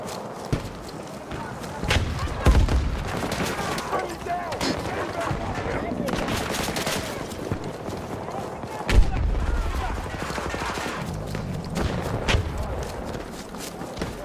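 Gunfire and explosions from a Battlefield 2042 match on the Manifest map, with a steady roar of shots and two heavier booms near the three- and nine-second marks, alongside in-game voices.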